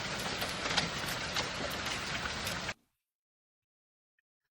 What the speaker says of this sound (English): you can see that that's basically grape-sized hail